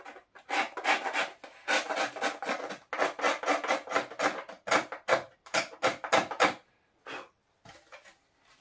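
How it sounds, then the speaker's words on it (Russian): Rhythmic rasping strokes scrape the edges of an antique violin, a steady series of close, dry rubbing pulses that slow and thin out toward the end. "Немножко зачищу края."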